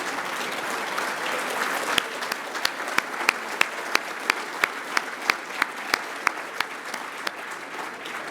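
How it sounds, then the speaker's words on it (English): Men stand and applaud the women at a Women's Day community service awards gathering, with a steady wash of crowd clapping and a few louder, sharper claps close by. "Can all the men stand up and give a round of applause to the women?"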